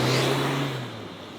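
A 2024 Toyota HiLux hybrid with a 48-volt system driving on the road, a steady engine hum and tyre rumble heard from inside that fades slightly as the drone settles.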